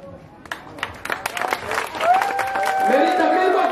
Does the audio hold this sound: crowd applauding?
yes